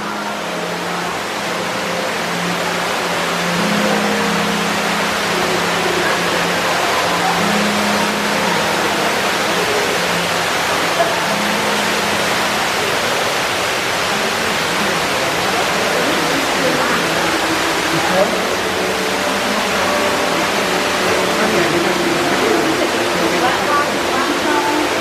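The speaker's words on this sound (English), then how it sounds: "This is the reason why I came here, for this waterfall." Ruby Falls, an underground waterfall inside a cave, gives a constant loud roaring rush of falling water that fills the space evenly without a break, with faint talk from visitors beneath it.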